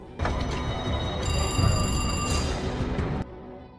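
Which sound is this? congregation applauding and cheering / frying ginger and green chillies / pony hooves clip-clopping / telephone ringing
telephone ringing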